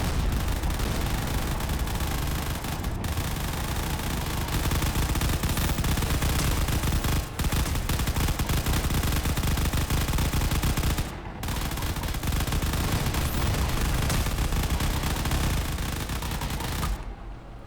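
Ship missile systems in the game Space Engineers fire in a dense, loud, unbroken barrage of rapid blasts with only brief gaps, very close and overpowering.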